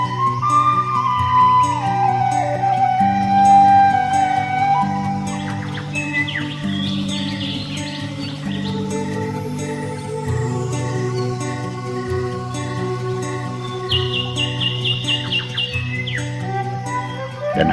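White-rumped shamas (murai batu) at a breeding farm sing loud, continuous, varied whistles and trills, with overlapping birds and busy high chirps filling the whole stretch.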